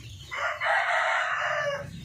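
A single free-range rooster crows loudly and close by, one long drawn-out call lasting over a second, with faint background noise.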